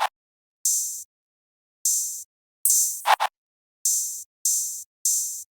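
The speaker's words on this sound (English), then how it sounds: "I'm gonna play that with this chant that I added. It's just this double chant" Trap open hi-hats from an FL Studio beat: crisp, airy hiss bursts spaced in a steady pattern, with a short chant-like vocal sample near the middle rising and falling, and near-silence between hits.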